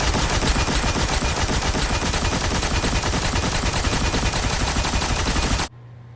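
The Thunderlord machine gun in the video game Destiny fires one loud unbroken burst of rapid shots that runs for several seconds and then cuts off suddenly.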